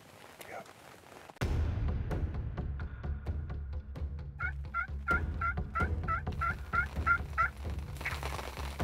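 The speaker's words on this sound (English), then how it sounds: "It's the gobbler." Wild turkey gobbler in a Kansas field, gobbling loudly in a burst of repeated rolling calls midway through, over steady low background rumble and faint outdoor noise.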